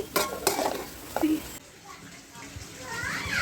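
Onion, green chilli and ginger garlic paste stir-fry in a pan for chicken fry biryani, with a spoon scraping and clinking against the pot over a soft sizzle.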